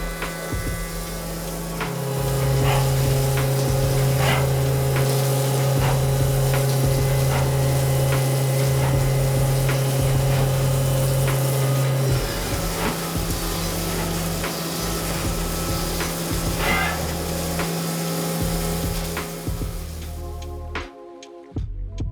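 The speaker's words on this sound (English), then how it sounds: "The milling process includes 3 cycles to complete the body" A CNC mill machining the body of an EZ-Edge corner plane, running as a loud continuous whine with steady motor tones and a shifting pitch partway through, ending in an abrupt stop with a final knock.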